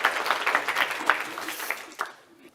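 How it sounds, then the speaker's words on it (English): A crowd applauding at a startup demo day, a dense patter of clapping that swells and then fades away toward the end. "Let's give a round of applause to Hasan."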